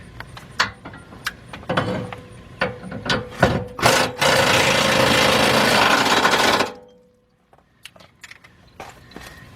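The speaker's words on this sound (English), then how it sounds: "we're going to tighten them with the air gun." Pneumatic air gun tightening bolts on a 1999 Lincoln Navigator during a fuel pump replacement: loud bursts of rattling impact hammering, then a sustained roaring run of several seconds that cuts off abruptly, followed by faint clicks.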